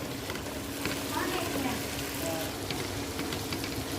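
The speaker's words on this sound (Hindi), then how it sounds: "ये देखिए चने की और ये चिकन की भुनाई अच्छी तरह से हो चुकी है" Chickpeas and chicken frying together in a pot, a continuous soft sizzle with crackling, steady and close, while a person speaks over it.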